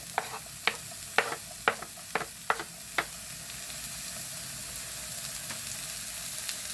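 Chopped onions sizzle in melted butter for a Chinese-style chicken dish, a soft steady frying hiss with about seven sharp spoon clacks against the pan in the first three seconds, then quiet, even sizzling alone.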